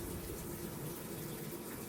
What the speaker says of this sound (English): water is now filling into the tub